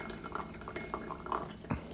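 Tea, a 1970s Baolan Liubao, is poured from a pot: a soft trickle with small drips and light clinks of ceramic, close and fairly quiet, with no talking.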